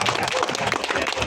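Brief burst of crowd applause at a pencak silat ceremony installing club officials, a dense close clatter of many hands lasting just over a second.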